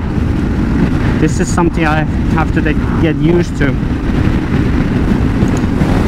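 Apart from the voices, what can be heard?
strong wind blowing into microphone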